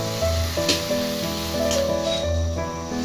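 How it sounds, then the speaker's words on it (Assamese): Grated beetroot halwa fries in ghee in a pan, a steady close sizzle with scraping stirs and light clinks running throughout alone. "আৰু অকণমান ভাজি ল'ম"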